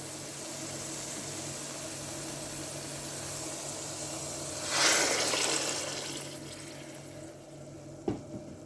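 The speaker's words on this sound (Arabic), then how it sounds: "وبعد كده هنضيف الصلصة بتاعتنا، طماطم، عصير الطماطم" Tomato sauce and tomato juice poured into a pan for an eggplant moussaka tray: a brief gushing, splashing pour rises mid-clip and tapers off over a quiet background hum, followed by a small knock near the end.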